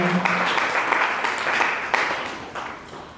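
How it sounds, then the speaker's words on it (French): Applause from the audience at the official launch of a women's fair fills the room with dense, steady clapping that holds at a fairly even level and eases slightly toward the end. "Applaudissements."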